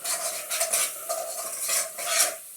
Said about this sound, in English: Keep stirring those until you smell those aromas coming out of the spices.